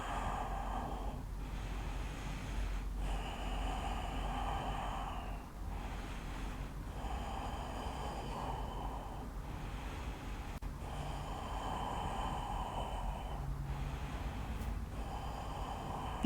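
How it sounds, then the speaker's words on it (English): Steady, deep inhales and exhales repeat in a slow rhythm during a core workout, close and fairly soft over a low background hum. "Keep going, inhale and exhale."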